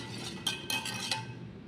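Mango panna sherbet stirred with a spoon in a glass, a few light clinks of metal against the container over a soft steady background hum.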